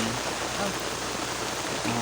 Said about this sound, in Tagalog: kay nibuylo ang ulan